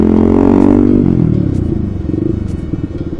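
Tiger motorcycle with an aftermarket exhaust, a loud close rev that swells in the first second, then a choppy, uneven idle burble that settles and thumps on, with no talking.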